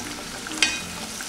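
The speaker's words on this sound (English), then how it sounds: "now I'm just going to fry all of this until it's nice and brown" Onion chunks and whole cloves fry in hot oil, a steady close sizzle with one sharp pop partway through.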